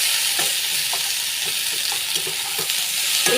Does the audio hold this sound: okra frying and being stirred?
yes